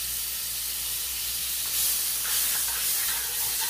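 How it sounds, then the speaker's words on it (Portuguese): Butter sizzles and hisses in a very hot frying pan, a close, continuous crackling spray that swells slightly louder partway through, with no talking. "A frigideira já está esquentando. E vamos começar a fritar."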